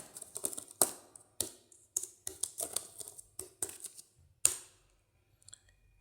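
Someone types a username and password into a Linux terminal on a computer keyboard, making a quick run of close, crisp key clicks in uneven bursts that stop for a short pause near the end.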